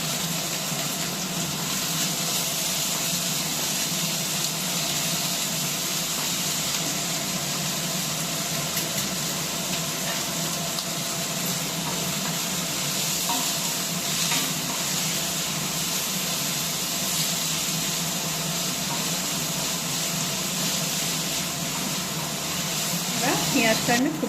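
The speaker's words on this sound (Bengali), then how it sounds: "পেঁয়াজটাকে আমি ভেজে নেব।" Onions fry in a little hot oil for a Bengali-style chicken bharta, giving a steady, even hiss and sizzle that runs throughout beneath a person talking.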